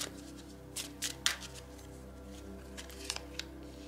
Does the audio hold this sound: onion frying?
no